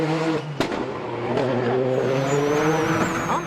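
Rally cars race flat out on a Tour de Corse WRC 2004 stage, engines roaring loud and sustained with rising revs, a sharp impact-like crack early on and tyre noise throughout.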